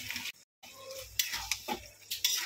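Fish fillets are dropped into a pan of hot oil and spices for a Bengali fish kalia, then stirred, with soft clinks of a metal utensil on the pan, scraping and a faint sizzle at close range.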